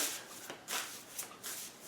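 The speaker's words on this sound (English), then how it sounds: "we are shuffled there, and one more shuffle on these" Tarot cards being shuffled by hand in a few quick riffling bursts, close and fairly quiet, with short pauses between them and no talking.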